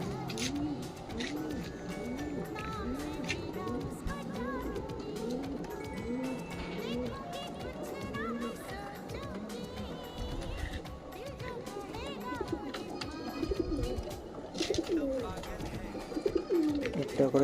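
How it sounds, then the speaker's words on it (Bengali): Pigeons coo in an outdoor rooftop loft in Kolkata, West Bengal. Many birds make soft, rolling, overlapping coos close by, under a person talking and light background bustle. "তো কিছু পায়রা দেখাচ্ছি"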